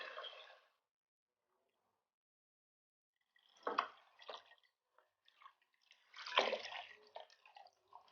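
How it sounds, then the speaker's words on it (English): Water is poured into a pan of cooked-down onions for French onion soup in short bursts, sizzling and splashing with quiet gaps in between. "I'm going to add this water."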